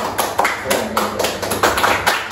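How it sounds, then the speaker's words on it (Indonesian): A small group claps at a student faculty forum after a call for applause, loose bursts of hand claps coming in uneven clusters, fairly close and moderately loud with no talk over it. "tepuk tangan dulu untuk kita semua"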